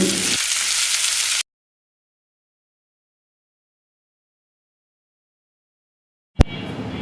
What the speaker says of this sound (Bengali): পেঁয়াজ কুচিগুলো খুব ভালোভাবে ভেজে নিতে হবে লাইট গোল্ডেন কালার হওয়া পর্যন্ত